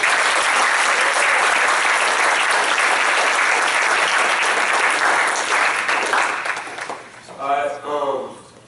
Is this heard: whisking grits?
no